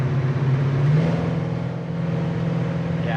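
A 1970 Chevelle convertible cruising on the road and easing down from about 70 mph, its engine humming steadily up close with a low drone and faint road whir, no voices.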